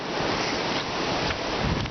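Strong wind roars and buffets the microphone in a continuous low rumble, with no voices, during a snowy windstorm on a mountain trail up Hawksbill.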